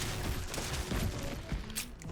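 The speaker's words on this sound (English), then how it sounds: "Oh, now you're shooting." Enemies fire guns in the Starfield video game, a dense, continuous stretch of rapid shots and muffled booms running through the whole moment with no voices over it.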